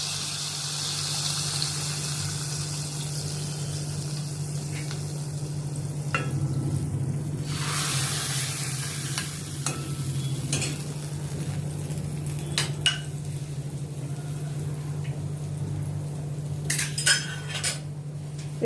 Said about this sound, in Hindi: ये तड़का अभी मैं दाल में डालती हूँ